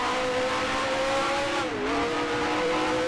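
A Lotus racing car engine in the video game Grand Prix Legends drones steadily at high revs, with a brief dip in pitch midway, loud and continuous with no talk.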